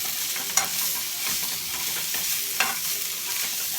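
Frozen Great Value Italian meatballs sizzle steadily as they brown in a hot pan, with a couple of brief scraping stirs against the pan surface.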